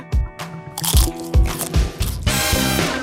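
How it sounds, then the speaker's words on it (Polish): Loud crunching bites into a crunchy chocolate-filled burger, several sharp, close crunches in quick succession followed by chewing, with no talk over it. "A ten burger jest jakiś dziwny. Wezmę gryza."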